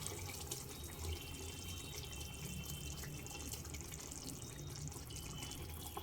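Water pours steadily while a mixing jar is rinsed in a home kitchen, a continuous splashing, faucet-like flow heard close up without pause.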